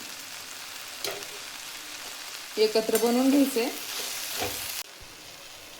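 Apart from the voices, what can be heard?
roasted green chillies, tomato and onion sizzling in pan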